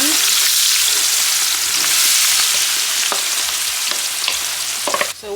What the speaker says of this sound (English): I'm gonna let that fry in the oil a little bit before you add your onions